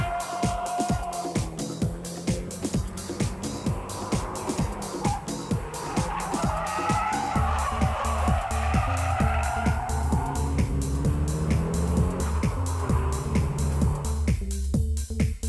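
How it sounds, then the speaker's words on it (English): A car drifts at high speed, its engine roaring steadily with rapid gear or rev pulses while the tires skid and squeal, loud and close throughout, with no talking. "The high-speed drift is composed from small countersteering and velocity."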